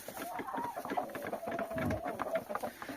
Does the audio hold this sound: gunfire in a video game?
no